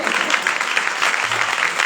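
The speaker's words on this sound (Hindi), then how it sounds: "जोरदार ताली उसके जलाल दें।" Church congregation applauding loudly at a Christian worship service, a dense, continuous wash of clapping filling the short stretch, with a low hum of voices beneath.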